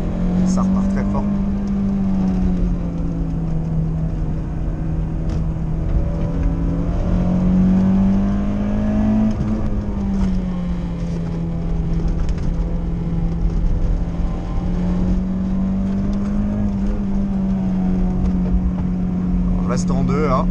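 A Citroën BX GTi 16-valve engine pulls hard through the gears with a steady droning hum that rises and falls, heard from inside the cabin while someone talks over it.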